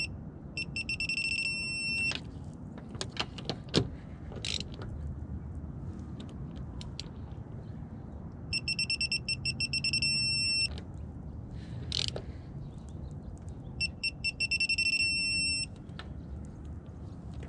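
A preset torque wrench tightening wheel lug nuts to 80 foot-pounds at a shop, sounding a steady electronic beeping alert in three separate bursts, with clicks and clanks of the tool in between, close and loud.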